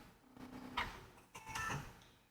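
A Bernina 990 sewing machine bringing up the bobbin thread, a few faint mechanical clicks, whirs and clunks in two short bursts, close and quiet with no talking.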